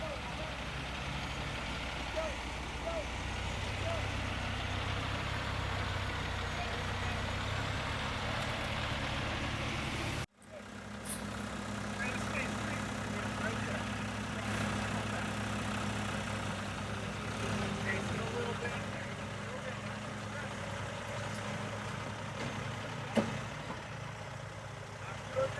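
A heavy truck hauling a sailing yacht gives a steady, low diesel rumble with engine drone throughout, briefly cut partway, while people talk nearby.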